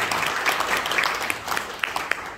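A church congregation claps for Jesus in a dense burst of applause that fills the room. A few sharper individual claps stand out as it fades.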